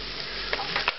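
Thinly sliced pancetta and shallot fry in a pan with a steady, close sizzle, broken by a couple of quick stirring scrapes near the end.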